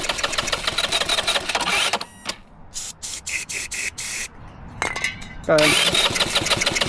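A minibike engine runs close by, rattling and buzzing loudly. It drops into a choppy, sputtering stretch of short bursts before returning to a steady roar, while people talk over it.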